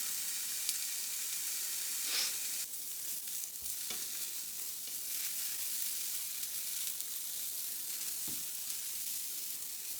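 Red onion fries in a pan, giving a continuous, even sizzling hiss that stays soft and steady throughout, with a couple of faint clicks.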